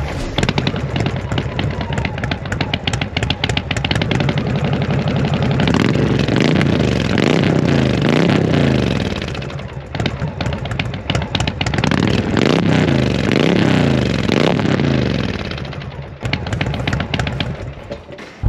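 Indian Roadmaster with a Thunderstroke 116 engine and Indian cam, loud exhaust roaring close up as it accelerates and revs in waves, with crackling pops on the overrun between pulls.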